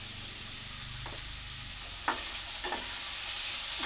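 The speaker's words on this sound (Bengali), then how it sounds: "টমেটো কেটে রেখেছি ছোট ছোট করে এটাও দিয়ে দেব এটা সুন্দর করে কষিয়ে দেবো ভাজা ভাজা করে" Chopped tomatoes and salt fry in a pan for a banana flower dish, giving a steady close sizzle broken by a few sharp scraping clicks of stirring, with no voices.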